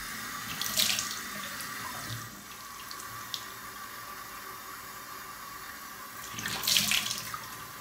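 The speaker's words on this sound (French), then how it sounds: "je me suis juste rincé le visage" Water runs steadily from a bathroom tap while a face is rinsed, a continuous close hiss with two louder splashing surges where hands cup and throw water.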